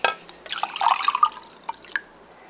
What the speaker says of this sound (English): Now I'm gonna take the water out.